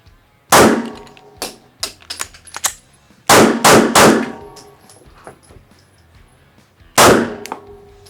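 Loud, sharp pistol shots from a brand-new, never-oiled Rost Martin RM1C handgun, fired singly and in quick clusters with pauses between bursts, close by at an outdoor range.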